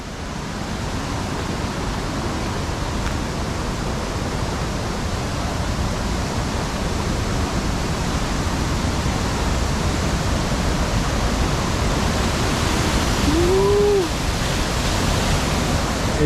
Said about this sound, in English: But there's 3 waterfalls.